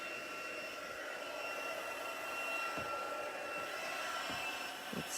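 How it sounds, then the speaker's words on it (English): A hair dryer blowing steadily to dry glue on a gilded leafing craft project, a continuous airy whir held at even loudness throughout, with a few faint soft knocks near the end. "maybe I can dry that glue out a little"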